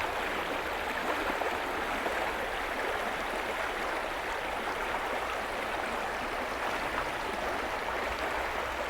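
A river rapid pours over rocks on a late-summer trout stream, its even, dense rush filling the air close by and unbroken.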